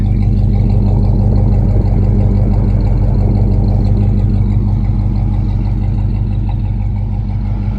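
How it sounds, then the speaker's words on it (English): A car engine idles steadily through a freshly repaired, riveted exhaust that now exits at the rear, a loud, close, deep rumble that stays even and unbroken throughout. "you can hear all the exhaust out the back rather than underneath like it was"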